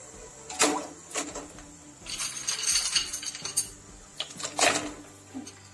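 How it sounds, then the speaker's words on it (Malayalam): Lumps of rock sugar (kalkandam) clink and clatter into a pot in a home kitchen, several sharp hard knocks spread across a few seconds over a quiet background. "അപ്പൊ അത് തിളച്ച് വരുന്നതോട് കൂടിയിട്ട് നമുക്ക് ഇതിലേക്ക് കൽക്കണ്ടം ഇട്ട് കൊടുക്കാം."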